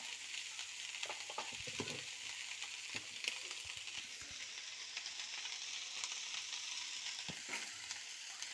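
Onion and ghee rice stir-frying with salt over a low flame, with a soft, faint sizzle and occasional gentle stirring scrapes and taps of a spoon.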